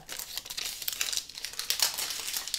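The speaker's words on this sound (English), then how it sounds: "So I'm just going to peel this paper off my lint roller." A paper sheet is peeled off a lint roller, giving close, crisp crinkling and tearing bursts in quick irregular bursts throughout, with no one talking.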